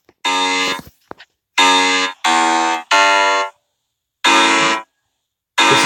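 The Rare Quibble monster from My Singing Monsters plays its song in the Composer app as loud, bright, buzzy sustained notes, about six separate tones with short silences between them.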